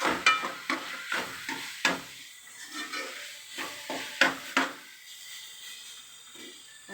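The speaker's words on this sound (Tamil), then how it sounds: "பொடி போட்டதுக்கப்புறம் நல்லா வதக்கணும்" A spoon stirs and scrapes spice powder being sautéed in a pan for homemade fried rice, giving a series of short irregular scraping strokes over a faint sizzle, close and fairly quiet, with no talk.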